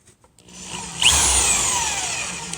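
A drill with a magnetic tip driving a screw into a metal stud, a brief tap and then a whining motor that sweeps down in pitch and runs steadily for about a second and a half.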